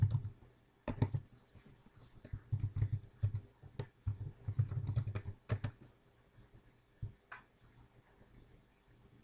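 Quiet bursts of typing on a computer keyboard, close and dry, with quick runs of key clicks broken by brief pauses and a few heavier single taps toward the end.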